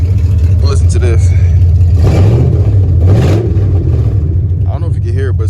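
A car engine idles unevenly with a slightly rough, unsteady running note from a low fuel pressure fault, steady and close throughout, with occasional brief voices over it.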